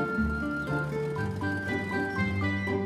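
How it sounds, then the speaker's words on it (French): Ice cream truck chime playing a tinkling melody with steady sustained tones, loud and continuous throughout with no talking. "Le camion blanc a des glaces."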